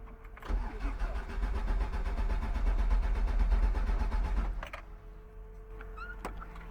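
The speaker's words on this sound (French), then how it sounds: "le moteur il démarre même plus, donc j'espère que c'est pas trop grave" A broken race car engine, damaged after a blow-up on track, cranking for about four seconds with a fast rhythmic churn, not catching, then cutting off and leaving a quiet pit stand.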